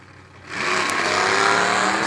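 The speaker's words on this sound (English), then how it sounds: "Big cubic inch, 505 cubic inch big block Chevy with a 671 blower on the top." A supercharged 505 cubic inch big block Chevy in a 1955 Chevy drag car with a 671 blower roars to life after a quiet start, then holds a loud, rising, raspy engine howl at a street race.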